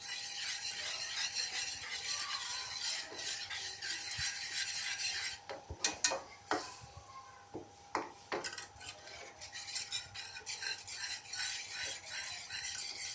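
A spoon stirs a thick chocolate paste cooking in a pan, giving a steady scraping and rubbing with a few louder knocks of utensil on metal midway, all close up with no talking.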